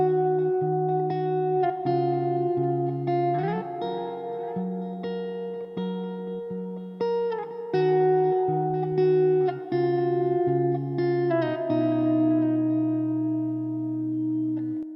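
Electric guitar run through the Polychrome DSP Nunchuck amp simulator with reverb added, ringing chords and picked notes that sustain and overlap, clean-to-mildly driven and close, steady with brief gaps between phrases and no talking.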